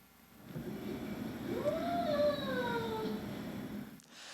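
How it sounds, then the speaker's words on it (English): A cat lets out a single long, wavering howl that rises and then slowly falls, fairly quiet and alone. "more chaotic vocalizations, including shrieks and trill meows and this howl."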